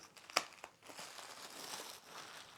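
Plastic wrapping on a deluxe Star Wars Vintage Collection Archive Edition book being cut open, with a sharp snip followed by soft crinkling and rustling of the film, close and fairly quiet.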